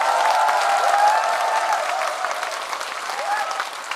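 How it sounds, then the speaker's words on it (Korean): Sustained applause from an audience, a steady wash of many hands clapping that eases off slightly toward the end. "박수 한번 주십시오"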